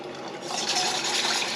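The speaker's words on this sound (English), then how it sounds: "now we're going to add our turkey stock" Concentrated turkey stock pours into a hot pan, a continuous liquid splash and sizzling hiss, close and steady throughout.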